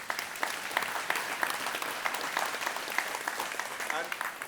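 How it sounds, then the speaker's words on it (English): An audience claps after a talk on cattle genetics, scattered but brisk applause with distinct individual claps, close and moderately loud, while a voice speaks over part of it. "So let's give Luke a round of applause."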